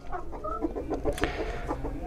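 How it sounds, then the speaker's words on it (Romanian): A broody hen sitting on eggs clucks in a steady run of short, close calls, with light farmyard background noise and no other voices. "Găina stă cloșcă de vreo două săptămâni"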